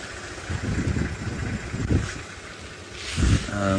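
A safari vehicle's engine idles and revs nearby at an early-morning game drive, a continuous low rumble that swells and ebbs, with wind noise and no clear speech.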